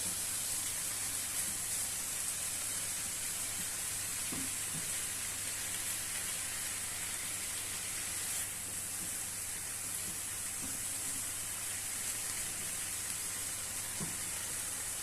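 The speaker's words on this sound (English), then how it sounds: "we're just browning off the beef somehow" Ground beef browning in a pan gives a steady, fairly quiet sizzle with a constant hiss, broken now and then by soft scrapes and taps of stirring, with no one talking.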